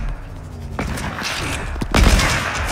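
Gunshots ring out in a no-scope sniper map in a video game, two or three loud, booming reports with a deep thump, the last shot the heaviest.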